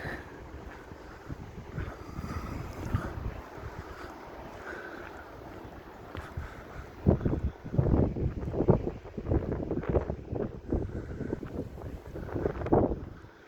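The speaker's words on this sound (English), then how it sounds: "But it's so windy." Strong wind buffets the microphone in a steady low roar in Blackpool, with heavier gusts thumping in toward the end; no voices.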